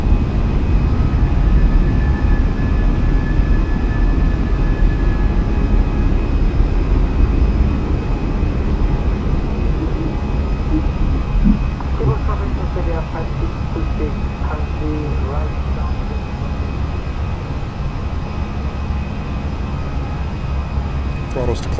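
Fenix A320 jet engines roaring steadily through a takeoff roll and climb-out in Microsoft Flight Simulator, a constant loud broadband rumble, with a pilot's voice talking over it.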